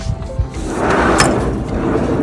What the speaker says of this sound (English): I think you've got to take the drawer about 3/4 of the way out